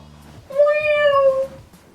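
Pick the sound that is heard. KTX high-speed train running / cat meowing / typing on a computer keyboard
cat meowing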